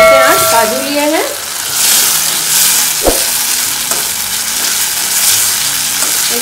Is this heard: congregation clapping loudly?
no